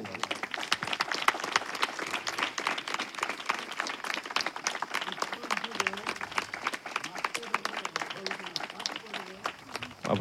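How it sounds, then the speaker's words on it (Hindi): A church congregation at a Christian revival meeting claps hands in praise, a brisk, steady burst of many hands that continues throughout, with voices audible in the background. "प्रभु को पाई गोटे ताली हो।"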